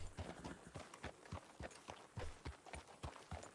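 Patrol horse hooves clip-clop in Wild RP, a steady run of sharp, hollow knocks at a trotting pace, fairly close and moderately loud, with faint background noise and no talk.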